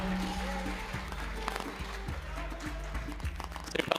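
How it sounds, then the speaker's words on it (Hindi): Applause welcoming a guest at a Jain religious gathering, a crowd clapping steadily under a droning musical tone, moderately close and continuous. "एक बार जोरदार तालियों के साथ"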